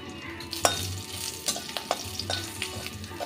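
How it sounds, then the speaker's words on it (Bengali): Green chili and nigella seeds sizzle in hot oil for a fish curry tempering, a steady close frying hiss broken by several sharp clacks of a spatula stirring against the pan. "ফোড়নটা ভাজা হয়ে গেছে"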